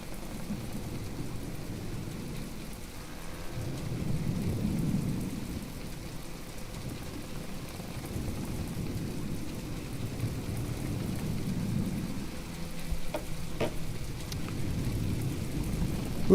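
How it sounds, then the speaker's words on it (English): Steady rain and rolling thunder in the naval combat game From The Depths, a continuous hiss with low rumbles swelling and fading, no voices. "I don't think we need rain."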